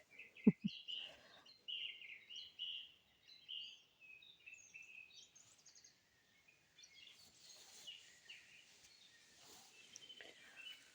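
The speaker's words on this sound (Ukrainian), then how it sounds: "ліс є ліс, повітря пташки" Forest birds chirp and sing in quiet woodland air, with a cluster of brief high calls at first and scattered twittering throughout, faint and distant, and a soft hiss of insects or breeze building toward the end.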